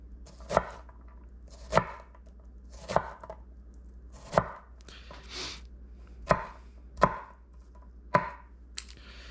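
A knife chops vegetables on a board while prepping tomato soup, giving seven sharp, evenly spaced thuds about a second apart, close and clear with no talking.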